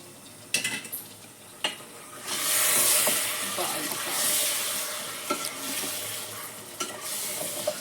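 Food is stirred in a new handi, with a steady sizzling hiss under sharp spoon clinks and scrapes against the pot, close and fairly quiet.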